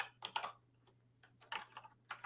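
Rapid computer input clicks in bursts, crisp and close, with short pauses between clusters over a faint steady hum; no talking.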